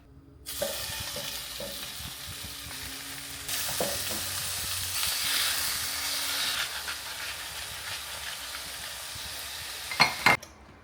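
Pork frying in a pan with very little oil makes a loud, continuous hissing sizzle that swells midway, with a few clatters near the end and no talk.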